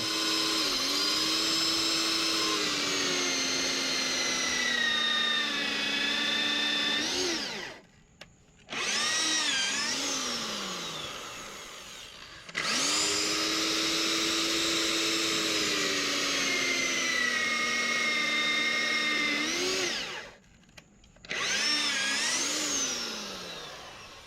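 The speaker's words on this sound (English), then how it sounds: "Cut them out, or drill them out," Power drill boring holes for 5/8 inch carriage bolts, a loud high whine held for several seconds at a time, twice dipping as the bit winds down and briefly stops before starting again.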